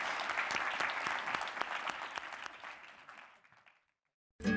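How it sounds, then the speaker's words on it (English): Applause breaks out for a panel of speakers at an early-education summit, a dense clapping crowd that gradually thins and fades into silence, followed by an abrupt new sound at the very end. "a big round of applause for Thank you. all these panelists"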